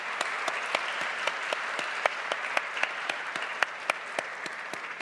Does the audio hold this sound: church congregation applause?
yes